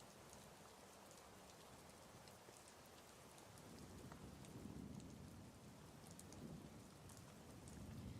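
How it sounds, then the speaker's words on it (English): Quiet, steady rainfall with scattered drop patter, swelling slightly in the middle, heard alone without any voices. "Do y'all feel very relaxed with all the rain sounds?"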